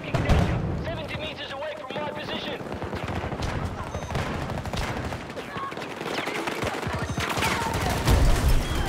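Rapid bursts of video game gunfire crackle and rattle almost continuously, loud and close, while players talk excitedly over the shots.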